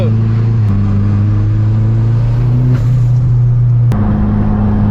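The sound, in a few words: Audi R8 twin turbo car engine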